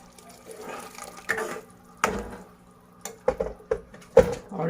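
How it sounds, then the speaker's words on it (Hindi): Hot water is poured into a simmering Sindhi-style tofu curry gravy in a pot, giving soft splashing and liquid pouring with a few sharp clinks of a utensil against cookware, close and fairly quiet. "उसके बाद हम इसमें थोड़ा सा गर्म पानी डालेंगे"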